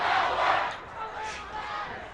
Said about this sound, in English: Broomfield crowd getting into it